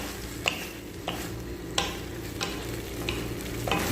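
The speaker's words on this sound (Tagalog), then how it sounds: "Haluin natin mga ka-recipe." Sweet spicy squid sizzles steadily in a pan while a utensil stirs it, with about six sharp scraping strokes spaced roughly evenly over the frying hiss, close up and with no talk.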